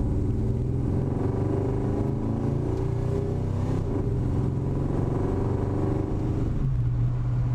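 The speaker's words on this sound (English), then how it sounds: "It's just a dual exhaust with some cherry bombs on there." Rumbling idle of a 1968 Dodge Polara V8 breathing through dual exhaust with cherry bomb mufflers, a steady, loud, close burble with slight swells in pitch and no talking.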